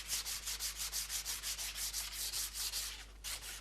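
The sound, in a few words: sanding a wooden model ship hull with fine sandpaper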